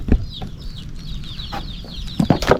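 Chickens cluck nearby in short bursts over a background of faint bird chirps, with a few louder clucks and rustling toward the end.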